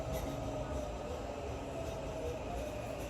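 An Auckland commuter train, a New Zealand AM class unit, rumbles steadily at a station. The sound is a constant broadband drone with a low wheel and track roar and no talking.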